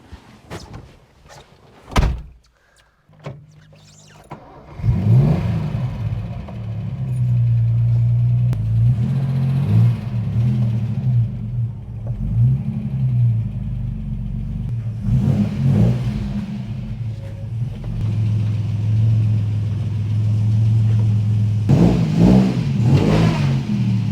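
A classic Ford Capri engine revs hard with wheel spin inside a garage. A few sharp knocks and a door-like thud come first, then a deep, loud engine roar holds steady with swelling revs for most of the clip.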